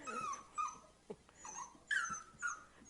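A puppy whines in several short, high, fairly faint whimpers spaced across the moment, with no talk.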